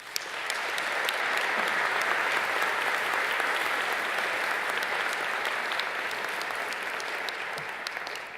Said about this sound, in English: Please give our speaker a very warm welcome of applause.